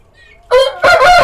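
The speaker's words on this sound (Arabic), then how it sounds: "ديك دي برضه يا جماعة جامد" A Hijazi rooster crows loudly and close by in two strong bursts after a near-silent lead-in.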